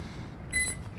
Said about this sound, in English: the beeping that you hear indicates that the ESCs are disarmed